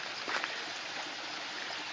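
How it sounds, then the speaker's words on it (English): Small jungle creek on Vietnam's Monkey Mountain, a steady broadband rush of flowing water that stays even throughout, moderately close and alone with no voices. "Like this little creek here."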